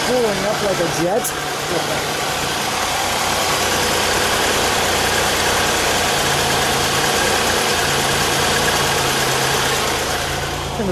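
A steady, close idle from a 1979 Buick LeSabre Sport Coupe's 3.8 litre turbo engine, with a constant low rumble and a faint whine that carry on unchanged for the full stretch.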